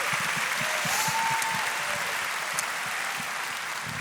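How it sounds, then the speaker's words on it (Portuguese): A church audience gives a strong, sustained round of applause, dense overlapping claps forming a loud continuous roar close by, with a faint whistle or cheer briefly rising above it. "Mais uma forte salva de palmas para esses dois aqui."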